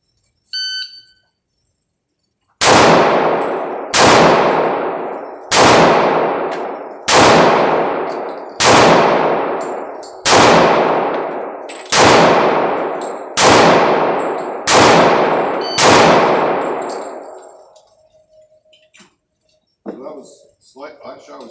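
Ten loud Glock pistol shots fired at steel targets during an indoor match, evenly spaced about 1.5 seconds apart, each with a long ringing echo, preceded by a brief start beep and followed by faint voices.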